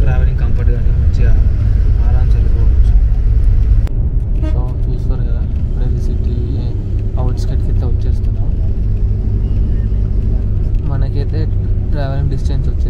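Steady low rumble of an air-conditioned bus on the road from Trimbakeshwar to Shirdi, running continuously at close range with a brief toot and talking voices over the engine drone.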